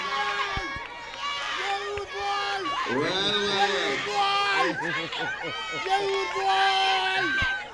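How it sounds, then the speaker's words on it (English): A crowd roars and cheers steadily at a high school athletics championship race in Nevis, with shouts and screams rising in waves while an announcer talks loudly over the din. "The crowd has come alive."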